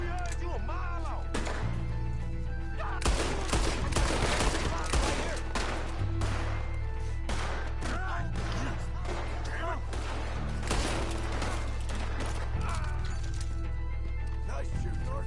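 Gunshots in Red Dead Redemption II: sharp cracks ring out repeatedly in a frontier firefight over a constant low rumble, with voices talking throughout.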